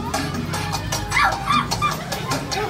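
A voice imitates a dog barking, giving a few short yapping barks close by amid background chatter in a shopfront setting.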